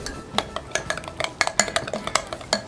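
A spoon stirs burger sauce of sugar-free ketchup, mashed capers and anchovies and finely sliced shallots in a bowl, with close, irregular clinks and scrapes against the sides in quick succession.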